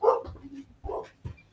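Dogs barking a short way off, a few muffled barks and yips spaced unevenly over about a second and a half, fairly faint with no talk over them.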